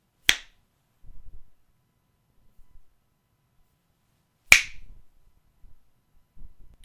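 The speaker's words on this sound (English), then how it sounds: "I have to snap my fingers to make it visible." Two crisp, isolated finger snaps about four seconds apart, each sharp and close, with faint soft rustles in the quiet between them.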